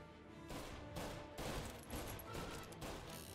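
Rapid gunshots in Mafia: Definitive Edition, a dense volley of loud cracks in quick irregular bursts over roughly three seconds, close and punchy, with no talk.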